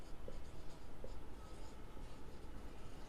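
Handwriting for a 7th standard maths HCF and LCM lesson, with a pen or marker scratching steadily across the writing surface in short strokes. The writing is close and continuous, with no talk over it.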